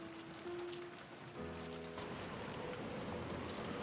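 Steady rain from the video game Umineko When They Cry patters continuously as a soft, dense hiss with some low tonal background music, and no voices are heard.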